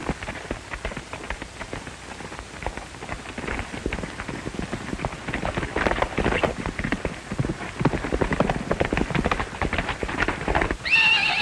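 A horse's hooves clatter in a steady, busy clip-clop across a Western scene, joined by neighing, loud and continuous with a rain-like wash of noise beneath.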